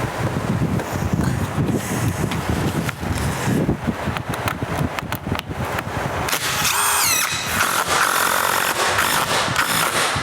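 Power drill driving large screws into the top of an exterior door frame during a door installation, a loud continuous whirring with squealing bursts that ramps up near the end, close to the mic.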